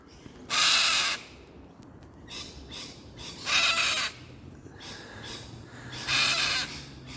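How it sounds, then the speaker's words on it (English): A cockatiel or cockatoo gives three loud, harsh screeching calls, each about half a second long and spaced a few seconds apart, over a quiet background. "is that a cockatoo or a cockatiel? I think it's a cockatiel."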